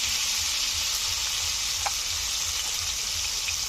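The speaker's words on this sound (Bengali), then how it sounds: "গোটা সাদা জিরে, টমেটো কুচি, দিয়ে দিচ্ছি লবণ," Cumin seeds, bay leaf and chopped tomato with salt fry in a pan for a Bengali fish curry, producing a loud, continuous, even sizzle from start to finish with no voices.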